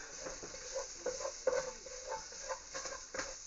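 Tomato sauce with tomato paste sizzles softly in a pan, faint crackles and small pops scattered over quiet background hiss.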